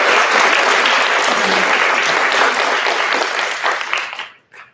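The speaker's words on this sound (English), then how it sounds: "so a big round of applause for Ms. Stumborg." A round of applause at a high school awards ceremony, loud, dense clapping from a large audience that holds steady before tapering off into a few last claps.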